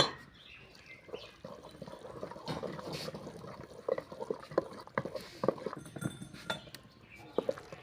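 Water trickles into saag cooking in a pot on a hearth as faint, scattered drips and soft splashes, quiet and close, with no talking.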